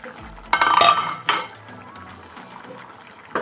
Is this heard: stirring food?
yes